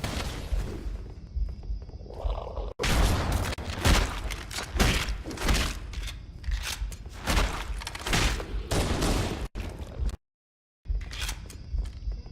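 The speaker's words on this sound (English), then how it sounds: "Can mop these guys up fairly easily after a grenade blast with your shotgun." Rapid, loud bursts of shotgun fire and heavy grenade blasts from Halo Anniversary combat in The Library level, dense overlapping impacts with brief gaps and a sudden silent break near the end.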